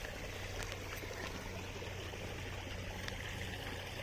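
Water flows and trickles steadily nearby, a continuous soft rushing with small splashes, no voices.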